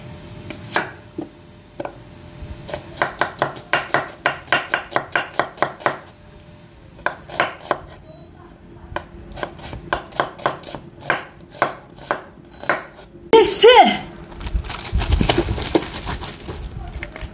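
Rapid knife chops on a cutting board slicing shallots, coming in quick rhythmic bursts with short pauses, close and crisp, then a brief louder clatter near the end; people speak Malay intermittently around the chopping.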